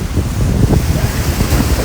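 Surf rolls in steadily on Ennore beach, a broad, loud wash of ocean waves mixed with heavy wind buffeting the microphone, with no voices.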